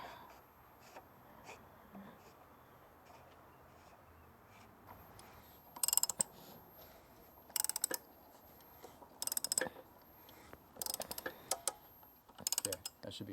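A new cartridge oil filter is screwed back into a Jeep by hand, with faint clicking and ratcheting bursts that come in short, separated spurts against quiet background noise.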